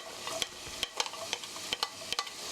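Sliced garlic and onion stir-frying in leftover chicken oil for soy sauce chicken, with soft sizzling under repeated clicking spatula taps and scrapes, close and fairly quiet.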